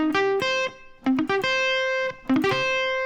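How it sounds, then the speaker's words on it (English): Distorted electric guitar in drop C tuning playing quick sweep-picked arpeggio phrases from a solo, bright sustained notes in three short bursts, loud and alone. "So what I've got here is a cheeky little sweep."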